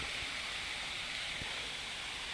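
A waterfall along a temple trail gives a steady, broad rush of falling water, continuous and even throughout with no other sounds standing out.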